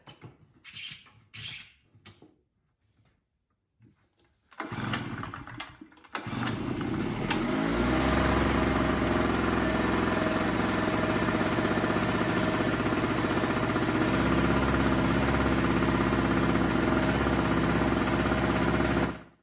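A small two-stroke engine on a snow blower turns over with a few brief cranking pulls, then catches and runs steadily at a loud, constant roar close by.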